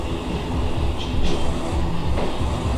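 Train in a Roblox video game, a loud steady rumble of a rail vehicle with a couple of brief higher squeals or clanks over the continuous noise, no voices heard.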